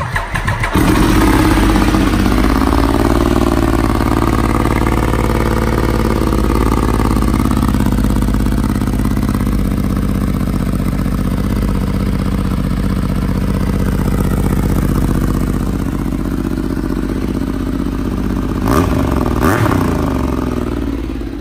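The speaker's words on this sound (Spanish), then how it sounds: "podemos arrancaros esta moto" A cafe racer motorcycle with an aftermarket exhaust starts up and idles loud and close in an enclosed space, with a deep, steady, slightly uneven rumble throughout.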